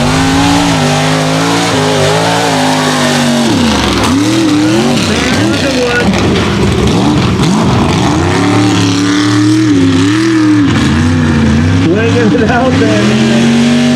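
A mega truck engine roars and revs hard during a mud race in West Virginia, loud and continuous with rising and falling pitch as the truck pushes through the course, while an announcer talks excitedly over it.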